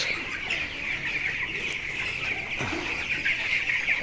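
Twenty-two-day-old chickens, small for their age, keep up a dense, continuous clucking and cheeping nearby, many birds calling over one another without pause.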